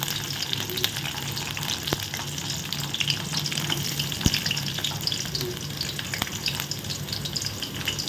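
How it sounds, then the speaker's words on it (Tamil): Green chillies and onion sizzling in hot oil in a pan, a steady close crackle that carries on throughout with a few sharp pops and stirring sounds. "எண்ணெய் சூடானதுக்கப்புறமா ஒரு மூணு பச்சை மிளகாய் இந்த மாதிரி ரெண்டாக கீரை போட்டு வச்சுக்கோங்க வெங்காயம்"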